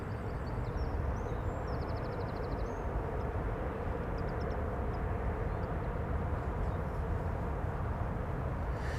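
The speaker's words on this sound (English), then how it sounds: "Cathay Pacific A350 1000 to Hong Kong." Cathay Pacific Airbus A350-1000 bound for Hong Kong at Schiphol Airport, a steady, moderately distant rumble of jet engines holding level throughout, alone without voices.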